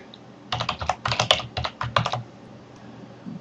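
Keys clatter on a computer keyboard in a quick run of close, distinct taps for about two seconds, then stop, leaving quiet room tone.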